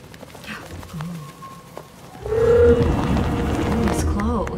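Horse hooves clop and shuffle amid outdoor crowd chatter, with scattered voices and a brief tonal call rising over the busy background.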